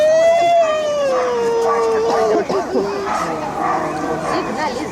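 Dogs at a dog show let out a drawn-out, howling whine and then a run of close, loud barks and yips, with people talking around them.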